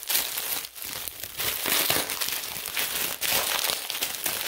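Steady crinkling and crackling of a package being torn open fills the stretch closely and continuously, with brief dips in the rustle.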